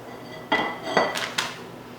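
Ceramic plates and dishes clinking as one is grabbed in a home kitchen while cooking Italian wedding soup, three or four quick close knocks over quiet background.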